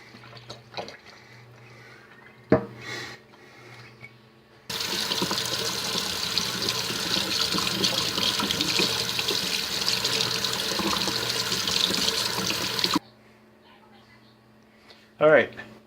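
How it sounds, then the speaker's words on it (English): Liquid gushes steadily for about eight seconds, like water running into a sink, as it drains off a block of cooled wax, with a few knocks and quiet moments before and after. "so it's cooled, so we can drain off the liquid."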